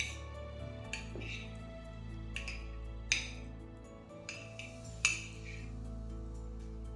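A spoon clinks against a bowl while sweetcorn and cheese samosa filling is mixed, giving soft, scattered taps at irregular intervals over a steady low kitchen hum.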